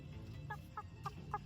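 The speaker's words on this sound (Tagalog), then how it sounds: "Manok." Chicken clucking in four short, evenly spaced bursts over a steady low background hum, fairly faint and close.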